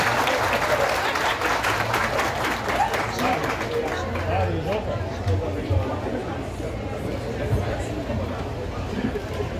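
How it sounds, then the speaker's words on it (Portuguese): Crowd applause and cheering at a town square festival in Tiros, Minas Gerais, a dense clapping wash with crowd chatter and a voice over it, fading slightly toward the end. "Aplausos, povo do Brasil."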